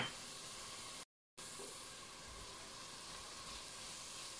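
Garlic cloves and small chili peppers fry with onion in a pan, giving a steady, soft hissing sizzle that continues throughout, broken once by a brief moment of silence.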